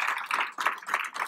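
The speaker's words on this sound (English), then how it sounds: "Clap for Bibi, please, so I can tell y'all clap." Audience applause at a senior job fair, clapping bursts that rise and fall in short waves, moderately loud and close, with no voices over it.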